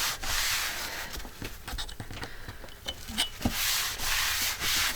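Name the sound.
scrubbing a craft cutting mat clean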